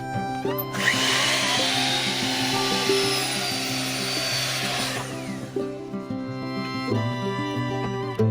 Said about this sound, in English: Miter saw, I'm going to be cutting this line directly down the middle, all the way to the end.